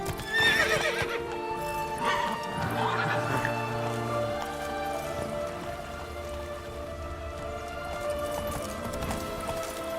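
Geralt's horse Roach in The Witcher 3 trots with steady clip-clop hoofbeats and gives a short neigh early on, set against rain and a sustained game music bed, loud and close throughout.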